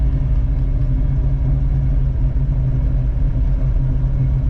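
A carbureted 1985 Oldsmobile Cutlass idles cold while warming up, giving a steady, close, low rumbling drone with an even pulse and no voices.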